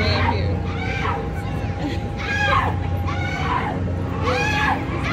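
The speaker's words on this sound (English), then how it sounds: "This girl is screaming her life away up here." A girl screams repeatedly on a state fair ride, in several long rising shrieks over a constant roar of machinery and crowd noise.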